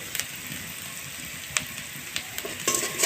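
A spoon stirs spiced boiled potato filling with cumin, turmeric and chilli powder in a frying pan, making a steady sizzle with a few scraping clicks, close and continuous.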